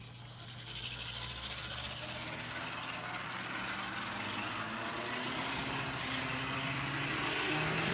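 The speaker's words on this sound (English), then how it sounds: "The 21:1 gear ratio and high-speed motor makes it quite a bit noisier than the last chassis" An open-frame high-speed motor with 21:1 gearing drives a Hobbytown 87612 six-axle model train chassis, giving a steady mechanical whir and hum that stays loud throughout and grows slightly louder toward the end.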